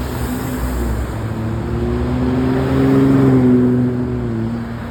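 A white truck's engine growls past a busy traffic-signal intersection on Sepulveda Blvd at Cabrillo Ave in Torrance, loud and close, swelling midway before easing off.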